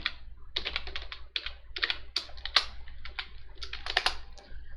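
Python code is being typed on a computer keyboard, with rapid irregular clicks and clacks of keys in quick bursts and short pauses, close and moderately loud.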